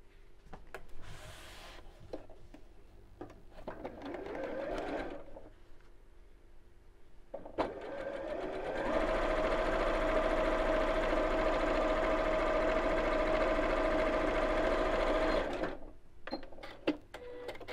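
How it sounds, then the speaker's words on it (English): A sewing machine stitches the ends of a fabric Christmas stocking together, running in a steady, loud whirring stretch of several seconds after a few short starts and stops. "Then I'm going to sew the ends together to make a tube"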